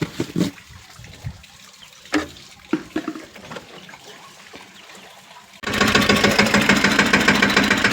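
Water sprays hard and steadily onto a tractor-drawn harrow being washed, starting abruptly after a few seconds of scattered knocks and clatter.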